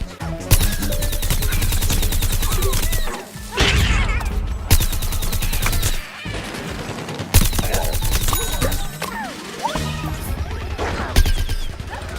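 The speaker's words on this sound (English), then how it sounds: "Here she is using her sunbeam ability, which is a rooted ability where she can't move, but she has a more powerful attack." Sunflower's rooted sunbeam attack in Plants vs Zombies Garden Warfare, a sustained loud rapid-fire crackling blast in long bursts broken by brief pauses, with impacts and explosions mixed in.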